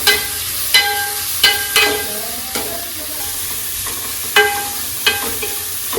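Stirring and sautéing in a pan for Kerala egg curry gives a steady sizzle with several sharp scraping stir strokes spaced a second or so apart, close and moderately loud, with no talking.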